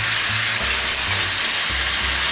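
Cuttlefish and vegetables, onions among them, fry in a pan while being stirred, making a loud, dense, continuous hiss of sizzling close by, with no voices.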